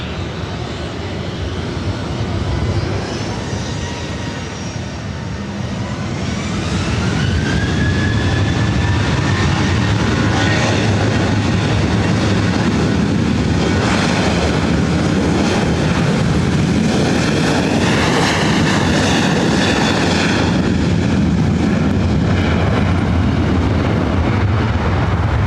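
A jet airliner taking off from LAX, with an engine roar that builds to a loud, sustained thunder and rising whine and stays close and steady to the end.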